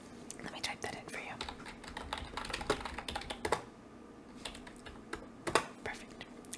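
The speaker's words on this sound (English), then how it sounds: "Let me type that in for you." A computer keyboard being typed on close by in a quiet room, with quick irregular key clicks in short bursts and soft whispering in between.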